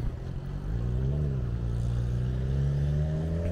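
A motorcycle rides past on a Catholic university campus, its engine droning steadily and rising slightly in pitch as it revs. The sound is close and continuous, with no talk over it.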